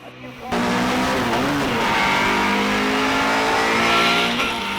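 A Mini racing car accelerates hard up through the gears at the Gurston Down speed hillclimb, its engine note rising and dropping with each shift, loud and close, with a commentator talking over it.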